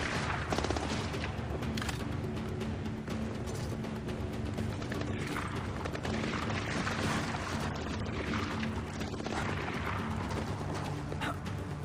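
Sustained gunfire in the stealth shooter Splinter Cell: Blacklist, dense rapid bursts and mechanical clatter filling the whole stretch at a steady loud level, with no voices breaking through.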